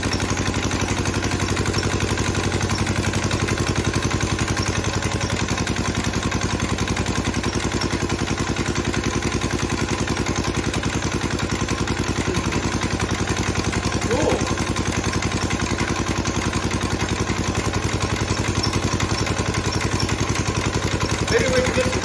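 A late-1940s Clinton engine on a cyclebar runs continuously and close, a steady mid-pitched putter with rattling clatter, idling without throttling up.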